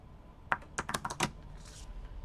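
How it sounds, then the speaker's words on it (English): A deck of cards for the Resident Evil board game being shuffled, heard as a quick close burst of crisp clicking flicks lasting under a second, followed by a softer rustle, with no talking. "real quickly give the Stars deck one more shuffle"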